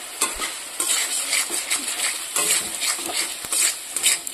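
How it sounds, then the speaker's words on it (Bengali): Cauliflower fries in a pan with a ground paste of turmeric, chili and cumin. It gives a close, continuous sizzle broken by repeated scraping stirring strokes. "ফুলকপিটা আর মশলাটা দিয়ে কষিয়ে নিই"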